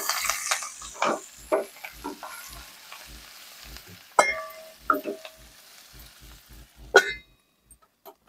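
Slit green chillies and spices, including garam masala, frying in a hot pan while being stirred, with soft sizzling under repeated scraping strokes and a couple of sharp utensil knocks.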